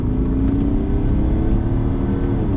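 A BMW E60 535d diesel accelerating hard, its engine droning loud and steady from inside the cabin with a rising tone held for the whole stretch, no talk over it.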